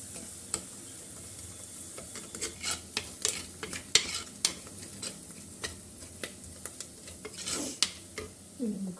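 Turmeric powder is fried in a pan as the base for a fish curry. A soft sizzle runs underneath, broken by close, irregular scrapes and taps of a utensil stirring against the pan.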